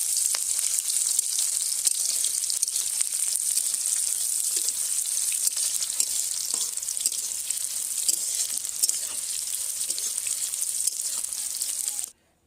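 Onions fry in oil for a fish curry, giving a loud, steady, bright sizzle with scattered crackles and occasional stirring, running continuously before cutting off abruptly.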